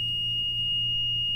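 A continuous high-pitched electronic beep from a DM510 dryer controller alarm holds steady throughout, loud and close, over a low background hum.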